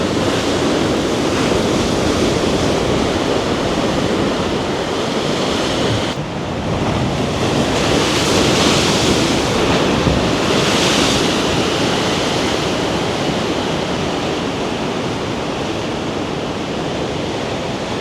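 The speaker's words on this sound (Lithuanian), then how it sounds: "Bet tai kaip galingai bangos muša." Powerful surf pounds continuously against the shore near Agadir, Morocco, a dense roar of breaking waves with wind rushing across the microphone, no voices present.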